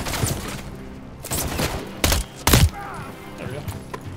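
Gunfire in Modern Warfare III on the Highrise map, a few sharp loud shot bursts in quick succession with explosive thumps, amid game sound effects and a voice talking.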